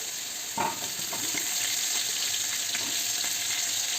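Onion and green chili frying with garlic in a pan, a steady close hiss of sizzling oil with a few soft stirring clicks throughout, no talk.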